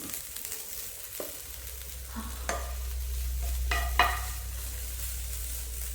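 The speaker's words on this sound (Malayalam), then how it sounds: "നന്നായിട്ട് മിക്സ് ചെയ്തെടുക്കട്ടെ" Egg thoran frying and being stirred in a pan, a steady close sizzle with a few sharp scrapes and clinks of the spoon against the pan, no talking.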